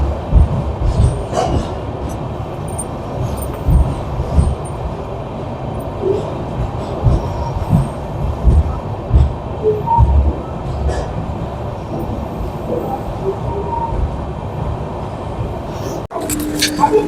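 The Amrit Bharat Express, a Sealdah to Varanasi passenger train, rumbles along at Patna station, giving a continuous low mechanical roar with occasional clanks and squeals and a faint tone heard in the background.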